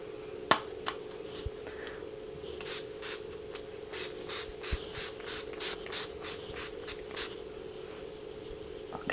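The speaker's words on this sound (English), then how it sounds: "So we're going to use this Barry M All Night Long Makeup Setting Spray." Barry M All Night Long extra-strong makeup setting spray misted toward a face in a quick series of about a dozen short, soft hissing bursts, close and clear, with no talking.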